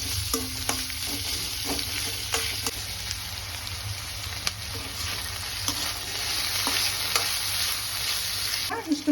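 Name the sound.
green chillies frying with onion in a pan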